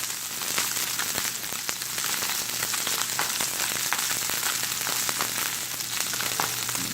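Opah fish skin and the fat beneath it searing in a generous amount of oil in a pan, giving a steady, dense sizzle and crackle that holds at an even level throughout with no talking.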